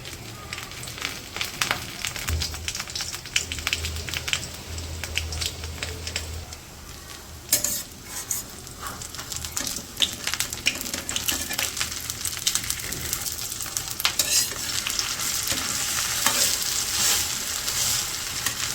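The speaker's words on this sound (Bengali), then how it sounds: "এগুলো তো আস্তে আস্তে জাল দিয়ে ভাজে নিতে হবে" Pumpkin leaf fritters fry in foaming mustard oil, giving a loud continuous crackling sizzle with occasional bursts and stirring scrapes, steady and close throughout.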